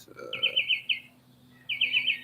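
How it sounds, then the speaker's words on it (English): A small bird chirps by a pool in the morning, in quick trilling bursts, two runs of rapid tweets separated by a pause, over a faint low hum. "listening to the birds"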